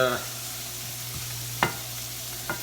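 Onions and ghost peppers frying in a pan for homemade hot sauce give off a steady close sizzle, with a few sharp clicks and scrapes as a utensil breaks the onions apart, and no one talking.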